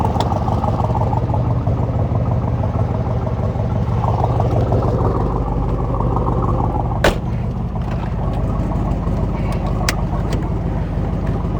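A 1967 Corvette L89 engine rumbles at a steady, loud idle before a drive, a deep continuous drone with a single sharp knock partway through and no talking.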